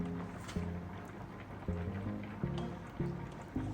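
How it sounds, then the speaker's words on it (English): Spoonfuls of starchy pasta water go into a pan of simmering baked beans, heard as a few short clinks and splashes at a steady, unhurried pace, close and fairly quiet. "Next, I'm going to add 2 spoonfuls of pasta water"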